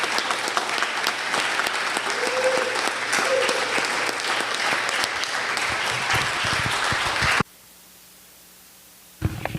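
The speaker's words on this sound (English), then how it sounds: "Can we please have a round of applause for these great congressional candidates?" Audience at a local political event applauds congressional candidates with a full, steady round of clapping for about seven seconds, then cuts abruptly to near silence before a brief return of noise.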